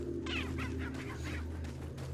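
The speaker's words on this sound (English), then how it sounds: "I'm not gonna shoot the chicken." A chicken in a video game clucks in a short run of bright, broken calls over a steady low game-music drone, fairly close and moderately loud.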